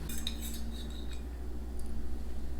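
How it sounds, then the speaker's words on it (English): A fork clinks and scrapes against a plate while picking up British cheese, a few light metallic taps near the start over a quiet room hum. "Oh, look at you picking it up with your fork."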